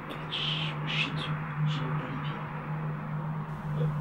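Several high, short calls of a bird at night ring out over a steady low hum inside an abandoned hotel, spaced irregularly and somewhat distant, in an otherwise quiet setting.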